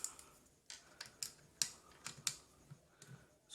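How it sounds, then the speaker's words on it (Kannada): Screws are worked loose on a Bluetooth party speaker being repaired for a broken charging port, a series of faint, sharp clicks and ticks spaced irregularly in a quiet room. "ಸ್ಕ್ರೂ ಓಪನ್ ಮಾಡ್ಕೊಳ್ತೀನಿ."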